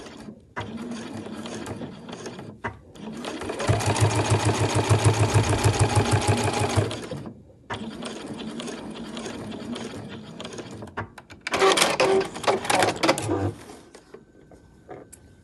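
Sewing machine back stitching the boxed corner seam of a fabric backpack, whirring loudly and steadily in a few long runs broken by brief stops, with a quick ratcheting burst near the end.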